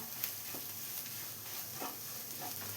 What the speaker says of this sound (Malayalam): ഇതൊന്ന് പൊടികളുടെ റോസ്മെല്ലെല്ലാം ഒന്ന് മാറി വരുന്നവരെ നമുക്കൊന്ന് വഴറ്റി കൊടുക്കണം